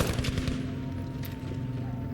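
Rapid bursts of Battlefield V gunfire crackle over a constant low rumble, with a voice faintly audible in the mix.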